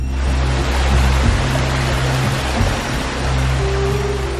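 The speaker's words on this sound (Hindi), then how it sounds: "दरमियान में साफ पानी का नाला बह रहा है" Clear water flowing in a small stream between two hills, a dense continuous rushing wash heard steadily without pause or voices.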